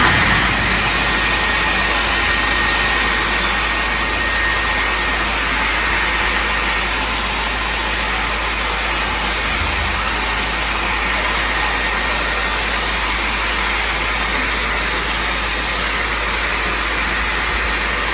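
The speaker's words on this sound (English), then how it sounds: "but I'm going to leave the Dyson on a bit longer." A Dyson Airwrap Complete hair styler runs steadily at close range, a loud, even whooshing motor-and-airflow hum that holds unbroken without pauses.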